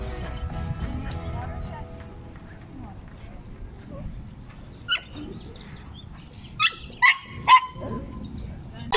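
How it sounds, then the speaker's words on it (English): Dogs barking at an airport, with several short, sharp barks toward the end over a busy background of voices and ambient bustle. "There's a lot of dogs here."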